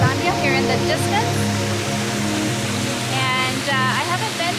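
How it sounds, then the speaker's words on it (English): The Gozalandia waterfall in Puerto Rico roars steadily as a loud, continuous broadband wash of falling water, with voices speaking over it. "Waterfall of Gozalandia here in the distance"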